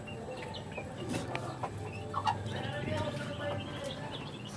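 Chicken of an unidentified breed with striking coloured plumage, a small head and a large body, clucking at moderate distance in a steady rhythm over low background noise, with a voice faintly present.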